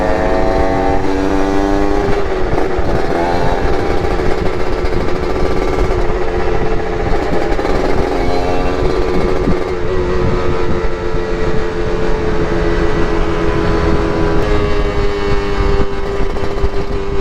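A Yamaha RX King motorcycle with a blown engine runs loud and close, a continuous buzzing drone that rises and falls in pitch as the throttle is worked, with no talk.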